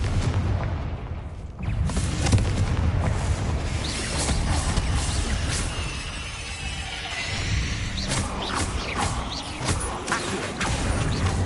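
Confringo blasting spell in Hogwarts Legacy, with a series of booming explosive impacts and crashing debris over a rumbling backdrop, bursts recurring across the stretch.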